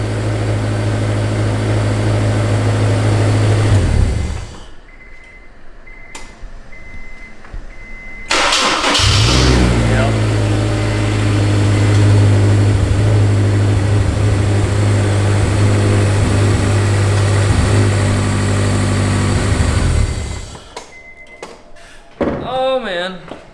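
Honda S2000 engine with a rattle, fired up and idling loudly in two stretches separated by a pause, then shut off, with brief clicks at the end.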